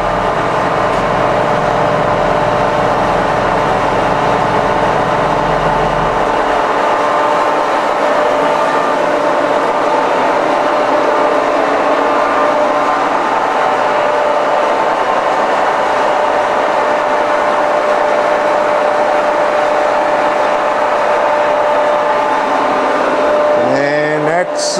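A Supermill Model J horizontal boring mill with a 2-1/2 inch spindle turns its table, producing a loud, continuous mechanical whir and drone that shifts slightly early on and then holds steady throughout.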